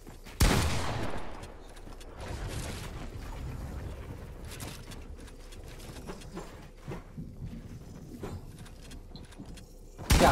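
Gunfire in a 1v1 console shooter match, with sharp, loud shots near the start and at the end and fainter clattering game sounds in between.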